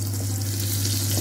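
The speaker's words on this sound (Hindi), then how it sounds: "अब यहाँ मैं छौंका लगाने वाला हूँ" Asafoetida tempering in hot oil in a frying pan gives a steady, close, hissing sizzle throughout, over a low electrical hum, with no talk.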